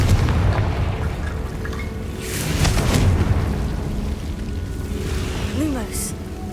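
A Confringo explosion spell in a Harry Potter video game lands as a heavy, low boom that rumbles on for a few seconds, with a brief voice-like sound near the end.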